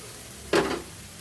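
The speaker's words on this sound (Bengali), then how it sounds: "পেঁয়াজটা কিন্তু এখানে নাড়তে নাড়তে লাল লালভাবে ভাজা হয়ে গেছে।" A single brief sizzling stir sounds as onion fries in a pan for potato-onion masoor dal. The burst is close and is followed by a quiet hiss.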